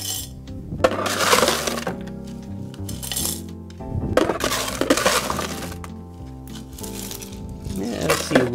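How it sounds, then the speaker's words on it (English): Crushed ice rattles and clinks into a tall 24-ounce chimney glass in loud, crunchy bursts. Each scoop lands with bright glassy chinks, followed by quieter settling between pours. "we're gonna fill it full of crushed ice"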